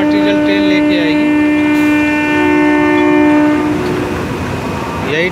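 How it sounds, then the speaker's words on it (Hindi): A freight train moving inside Bokaro Steel Plant, a loud sustained horn blaring over the rumble of rolling wagons close by, fading slightly toward the end. "यही ट्रेन लेकर आएगी।"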